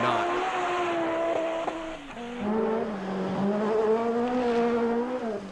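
Group B rally car on a rally stage in Finland, its engine roaring loudly and steadily, pitch stepping up and down with gear changes as it drives past.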